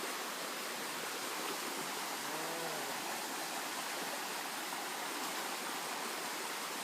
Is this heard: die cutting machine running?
no